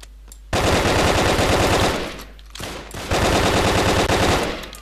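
Automatic gunfire in the video game BrickForge, loud rapid bursts of shots in two long volleys separated by a brief pause, close and dominant with no talk.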